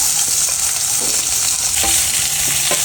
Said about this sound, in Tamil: பட்டை கிராம்பு வெங்காயம் தக்காளி பச்சை மிளகாய் போடு